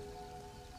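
Rain falling in the video game Nightingale, a soft, faint, even patter with a thin tonal hum running beneath it, steady and unbroken.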